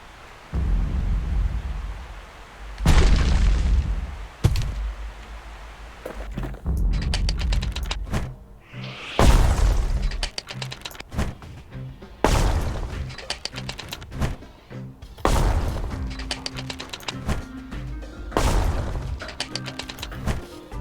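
Mortar firing explosions in the video game Bastion, a series of loud booming blasts with thuds and crashes spaced every few seconds, each followed by a decaying rumble.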